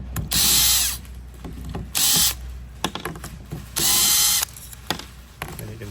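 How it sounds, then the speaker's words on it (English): A power driver backs out the screws holding the motor gearbox of an Allegion Falcon 8200 door exit device, three loud close bursts of whirring buzz separated by quieter handling clicks and taps. "there are 4 screws that hold the motor gearbox in place. We're gonna remove that."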